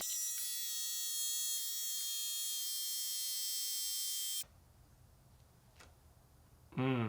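A small electric air pump drones with a steady high-pitched whine while inflating a tire repaired with a cheap plug kit, then cuts off abruptly, leaving quiet room noise and a brief rustle.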